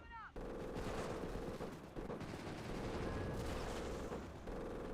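Machine gun fire rattles on in the distance throughout a co-op war video game, a steady sustained crackle of shots, fairly faint, under a dense layer of other battle noise.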